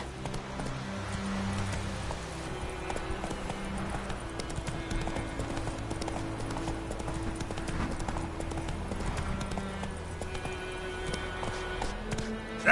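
Roach, the horse in The Witcher 3, gallops at a steady pace, rhythmic clip-clop hoofbeats running continuously over a low ambient bed with no voices.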